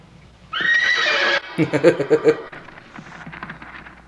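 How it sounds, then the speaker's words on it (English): Horses whinny in a film scene, one long loud close neigh followed by a rapid, fluttering second whinny, then quieter snorting and faint hoof movement. "I guess her name sets off horses."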